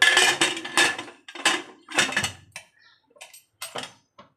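Pressure cooker holding chicken curry being closed, a series of close metallic clanks and taps from the lid as it is fitted and locked, uneven in rhythm and fading into a few softer clicks, with no talking.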